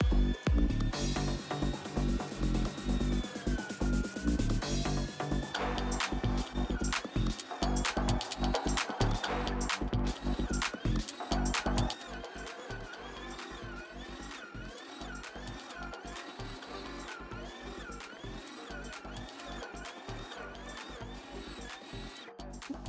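A meat grinder minces falafel mixture with four cloves of garlic, giving a steady motor whine with shifting pitch and irregular crunching clicks. The sound runs for over twenty seconds and drops in loudness about halfway through, with no talking.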